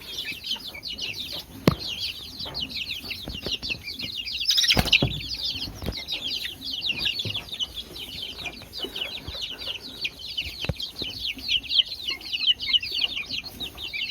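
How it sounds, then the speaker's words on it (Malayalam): Many chicks peep busily in a constant high-pitched chorus, with occasional clucks from grown chickens and a short flurry of flapping wings partway through. "ഇതൊക്കെയാണ് നമ്മുടെ നിലവിൽ ഇപ്പോൾ കയ്യിലുള്ള കോഴിക്കുഞ്ഞുങ്ങളെന്ന് പറയുന്നത്"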